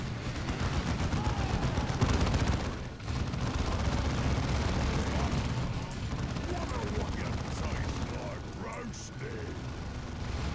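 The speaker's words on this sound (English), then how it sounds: "He throws grenades" Grenade explosions and gunfire in the Warhammer 40k Dawn of War II strategy game, a dense, continuous battle din with repeated blasts, mixed with voices and game sounds throughout.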